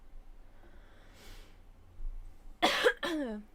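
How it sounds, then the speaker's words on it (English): Two sharp coughs in quick succession, close and fairly loud, after a soft breath in a quiet room. "I'm gonna try and not cough a lot during this."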